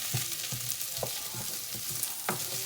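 Onion frying in a pan for a spinach curry, a constant bright sizzle broken by repeated knocking and scraping stir strokes at an uneven pace, close and moderately loud.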